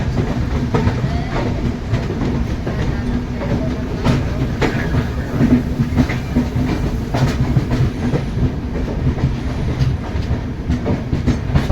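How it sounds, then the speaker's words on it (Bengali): The New Delhi–Malda Town Express rolls slowly into Pratapgarh Junction in the early morning, giving a steady close rumble with rhythmic clickety-clack of wheels over the rail joints and faint squeals throughout. "সকাল প্রায় 6টার সময় ট্রেন ধীরে ধীরে প্রতাপগড় জংশন এন্টার করছে"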